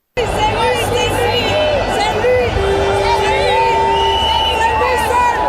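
A large, joyful crowd at a presidential inauguration fills the air with a loud, continuous roar of cheering, shouting voices and whistles that runs unbroken from start to finish.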